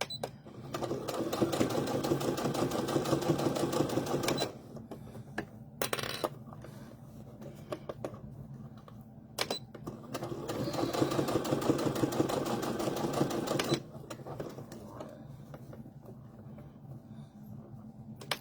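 Sewing machine stitching fabric for a wrist key holder, two long bursts of fast rhythmic whirring with short pauses and small clicks between runs, close and clear.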